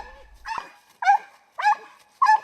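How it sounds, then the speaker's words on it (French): Four sharp, close yips come from a firefighter rescue-dog puppy in search training, evenly spaced and standing alone. "le chiot doit aboyer pour indiquer au maître l'emplacement de la personne"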